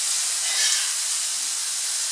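Liquid hits a hot pan for lamb tagine and sizzles with a loud, steady, close hiss that holds evenly throughout.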